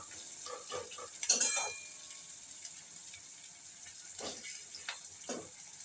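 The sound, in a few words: onion pakoda frying in a pan over medium gas flame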